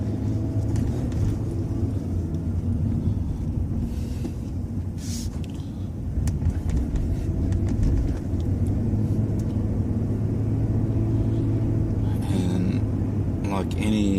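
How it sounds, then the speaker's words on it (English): A cold-started car engine is driven gently, giving a steady low rumble and road drone throughout, with a brief rise in engine note near the end. "like any cold started car, I'm being quite gentle with it"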